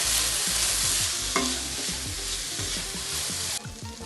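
Onions, tomatoes, green chillies and ginger fry with a steady loud sizzle in a pan for a Kerala-style roasted-coconut chicken curry, with repeated stirring scrapes throughout and no talking.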